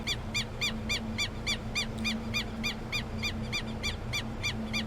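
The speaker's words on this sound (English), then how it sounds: "That is a very loud bird shouting in our ear." A loud bird calling near the listener in a Brazilian setting, sharp repeated calls in a regular rhythm of roughly three per second, over a low steady hum.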